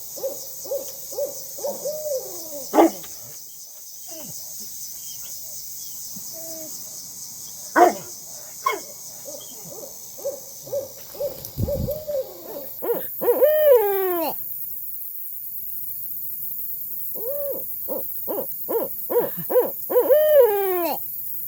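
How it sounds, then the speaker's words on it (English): A female barred owl gives a series of hoots, some rising in pitch with a quavering vibrato, building into rapid ascending calls; night insects chirp faintly in the background. "This is the female calling the ascending hoots."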